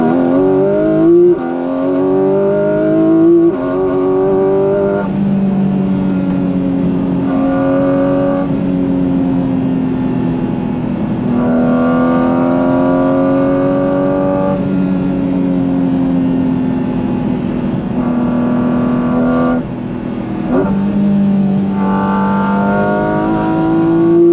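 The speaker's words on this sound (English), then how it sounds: "knock PDK into sport, put yourself into manual, drop a few, and listen to this." Porsche 718 Cayman GT4 RS flat-six engine in sport and manual mode, heard loud and close as it repeatedly revs up and drops through gears, with rising and falling pitch and brief breaks between pulls.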